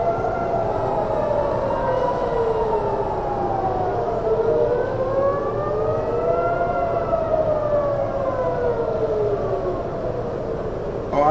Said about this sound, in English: Imagine hearing all them sirens in your city.